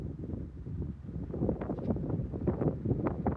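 Gusty wind buffets the microphone at a scenic outdoor overlook near a campsite, a rough, low rumbling roar that swells and surges without a break.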